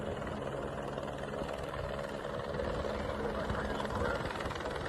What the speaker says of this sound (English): here I'm showing here the helicopter.